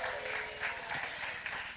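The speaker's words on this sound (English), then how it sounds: "Can we do an extra round of applause for Matt and Lyndon" Audience applause at an Easter church service, a short burst of steady clapping from a gathered congregation, moderately loud and continuous with no talking over it.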